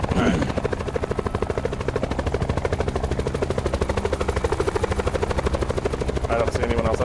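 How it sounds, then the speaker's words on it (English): A helicopter in the Call of Duty Blackout video game gives off a loud, steady rotor thump with a rapid, even pulsing beat that lasts the whole stretch and fills the low end. "let's take this helicopter and get out of here"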